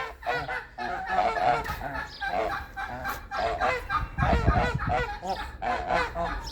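Geese let out loud honks close by, calling over and over in quick, overlapping bursts at a farmyard pasture shared with turkeys.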